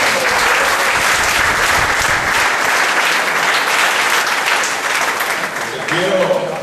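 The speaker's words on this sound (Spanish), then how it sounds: "Denle un aplauso." A church congregation bursts into dense, sustained applause, loud and steady from start to finish, tapering slightly near the end, where a voice comes in.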